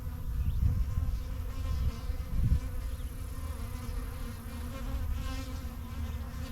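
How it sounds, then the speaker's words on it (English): Honey bees swarm around an open beehive during an inspection, making a dense, close buzzing that swells and eases in gentle waves without any voices. "Lots of little brand new baby worker bees though."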